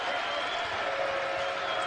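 A basketball crowd at Cincinnati's Fifth Third Arena cheers after a two-hand dunk, a steady, dense roar of voices and applause sustained throughout, moderately loud and even.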